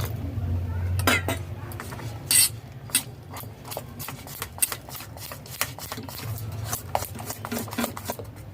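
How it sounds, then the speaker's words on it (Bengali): A batter for pav bhaji being mixed with small additions of water in a bowl, a run of quick, irregular utensil taps, scrapes and clinks against the bowl over a low background hum, close up with no talking. "কম কম জল দিয়ে ব্যাটার তৈরি করে নিতে হবে"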